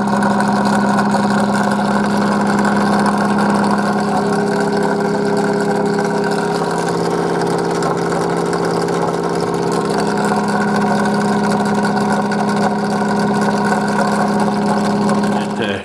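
Bedini motor with a built-in generator spinning steadily at around 3,000 RPM, producing a loud, continuous mechanical hum with a strong steady tone throughout.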